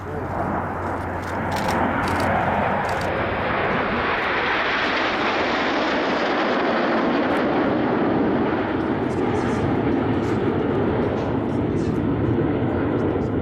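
Red Arrows jets sweep past in formation at an air show at Avord air base, a loud roaring engine rush that swells and holds close by, with a commentator talking over it.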